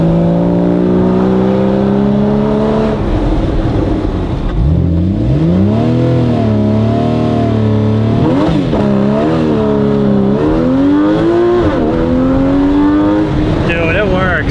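A Porsche GTS Street Cup race car drives off, its engine droning steadily then climbing and falling through several loud revs, with voices talking over it inside the car.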